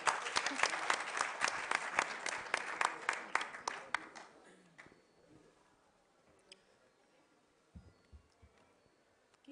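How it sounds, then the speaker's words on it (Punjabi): Audience applause at an international Punjabi conference, dense rapid clapping for about four seconds that thins and fades into a quiet room with a few stray claps. "ਤਾਲੀਆਂ ਵਜਾਓ ਜ਼ਰਾ।"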